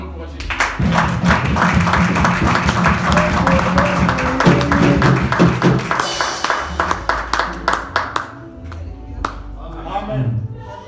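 A church congregation applauding to encourage a woman coming up to give her testimony, with brisk rhythmic clapping from many hands close by that thins out into scattered claps near the end, with voices and music sounding through it.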